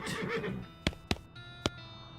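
A horse in the western comedy game West of Loathing gives a short whinny, followed by three crisp, evenly spaced hoof clops ringing out alone in a quiet scene.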